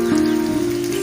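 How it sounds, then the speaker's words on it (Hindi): Heavy rain falls steadily as a dense, continuous wash with a low steady hum beneath it, unbroken and fairly loud for the whole moment, with no voices. "बहुत ही स्पीड से"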